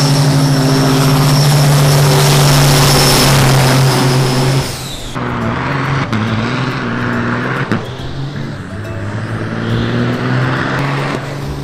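Heavy diesel trucks drive past with a continuous loud engine roar. The drone shifts and drops partway through, then carries on with rumbling, uneven engine noise and no talk.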